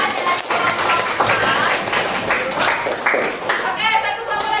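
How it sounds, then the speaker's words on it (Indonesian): A classroom of elementary school children claps for a student at SD No. 3 Jimbaran, the clapping loud and uneven, with bursts of chatter and voices mixed in throughout. "Tepuk tangan dulu buat Nea dari kelompok"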